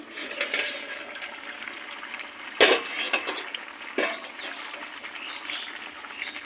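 Lid lifted off a cooking pot in a home kitchen, a single sharp metallic clink among faint clatter and soft background noise, with no talking.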